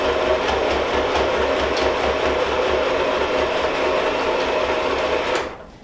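A sewing machine runs steadily, stitching a two-sided fabric eco bag in one continuous, close, loud rhythmic whir that stops abruptly at the end.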